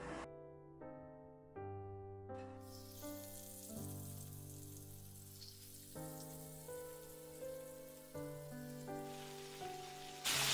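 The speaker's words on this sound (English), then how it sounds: "right now I'm going to deep fry the fish" Red sea bream fish deep-frying in hot oil gives off a steady hiss of bubbling sizzle beneath loud background music of sustained notes, with no one speaking.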